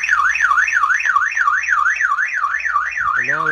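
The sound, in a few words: fire alert alarm of Blazender 320 fire protection system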